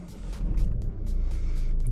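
A 2016 Ford Mondeo 2.0 TDCI diesel with 209 hp, heard from inside the cabin as it accelerates: a steady, deep engine rumble that swells slightly and holds, with no talking.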